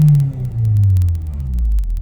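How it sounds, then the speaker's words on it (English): An Acura RSX DC5 engine revs briefly, a loud close rumbling note that rises and falls in two short swells before settling back down. "And then whenever I rev it again"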